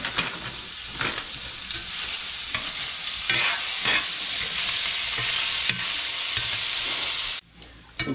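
Bacon frying crisp in a pan on a southern stovetop for shrimp and grits, a steady close sizzle with scraping stirs and clicks, cutting off sharply near the end.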